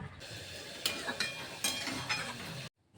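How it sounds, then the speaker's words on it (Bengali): A spatula scrapes and stirs mustard-poppy seed paste into vegetables in a wok, giving a few soft, close scraping strokes over a faint sizzle before it cuts to silence. "কড়াইতে দিয়ে দিলাম সর্ষে আর পোস্ত বাটাটা ভালো করে নাড়াচাড়া করে সর্ষে আর পোস্তটাকে সবজির সাথে মিলিয়ে দেবো"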